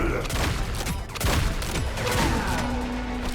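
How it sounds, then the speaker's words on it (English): Gunfire in the hero shooter Marvel Rivals as shots pierce through shields, a dense fusillade of rapid shots layered with game effects and a sustained tone, steady and loud throughout. "Shooting through shields is kind of crazy though."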